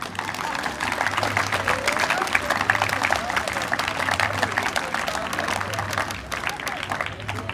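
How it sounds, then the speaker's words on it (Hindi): A debate audience claps steadily for several seconds, a dense, continuous applause with a low hum in the background. "एक दफ़ा अपने लिए और मोहतरम मलक फैसल यार उतरा के लिए क्लैपिंग कर दें"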